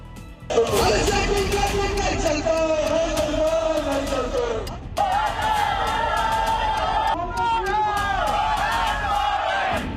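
Thousands of students at a protest in Ranchi, their crowd babble and shouting loud and steady throughout, with chants and cheers rising, a brief dip midway before the roar resumes.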